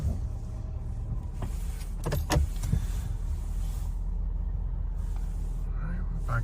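A car reverses slowly into a tight parking spot near a column and planter on a snowy day, its low engine rumble steady and close throughout, with people talking over it.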